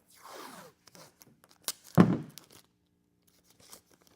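Masking tape ripped off the roll to tape off a plastic antenna cap and sunroof grommet on a car with peeling clear coat: a few short tearing rips, one loud close pull, then quiet handling.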